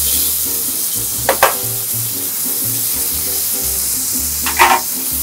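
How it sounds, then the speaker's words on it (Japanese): Water spinach steam-frying in a hot pan, a steady loud sizzle throughout with a couple of brief clattering bursts from the pan or utensil, no talking. "空心菜は少し蒸し焼きにし"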